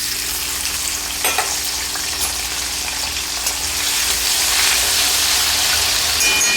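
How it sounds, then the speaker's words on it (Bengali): Cut potatoes dropped into hot oil left from frying paneer, a close, steady sizzle that swells louder partway through and keeps hissing continuously, with a brief clatter near the start and no voices. "ওই তেলে দিয়ে দিচ্ছি কেটে রাখা আলু।"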